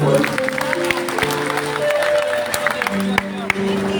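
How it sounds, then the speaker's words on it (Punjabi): Audience at a farmers' protest gathering breaks into clapping and cheering, a steady wash of applause with crowd noise and scattered voices throughout, close and fairly loud with a few sharp claps standing out. "ਤਾੜੀਆਂ ਲਾ ਲਿਆ ਕਰੋ ਖੁੱਲ ਕੇ"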